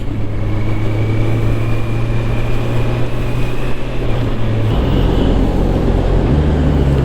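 A motorcycle engine runs steadily and loud throughout, with a low droning tone that drops in pitch near the five-second mark and climbs again as the rider shifts up through the gears.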